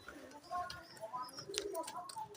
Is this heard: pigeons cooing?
yes